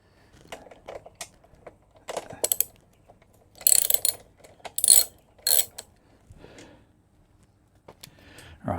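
Ratchet wrench removing airbox bolts on a Honda CB125F, with several bursts of close, quick clicking separated by pauses and by the small clinks of handled bolts.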